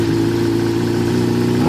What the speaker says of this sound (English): What we can say is the exhaust on this bike is, how do you say, loud.